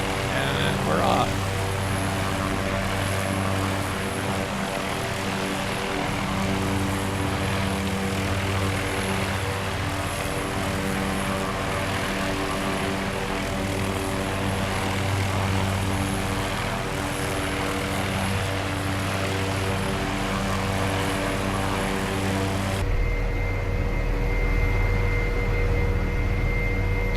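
An MD530F helicopter hovers in the Prepar3D flight simulator, giving a steady, droning rotor and engine hum that holds throughout and shifts to a slightly different tone near the end.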